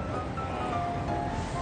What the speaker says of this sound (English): what you're hearing now is actually the sugarcane machine sound